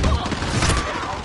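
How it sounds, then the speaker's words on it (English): Dense, loud gunfire and impacts from a Call of Duty: Modern Warfare multiplayer match, a continuous burst-filled wash of shots with a voice mixed in underneath. "it's just shooting."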